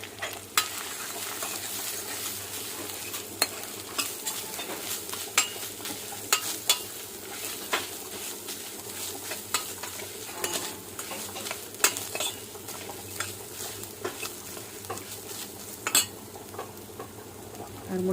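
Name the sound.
grated coconut frying with roasted cashews in pan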